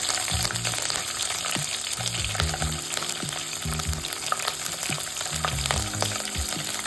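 Curry leaves and cut green chillies fry in hot oil for a ridge gourd and moong dal curry, a continuous close sizzle with repeated low thuds and scrapes from stirring.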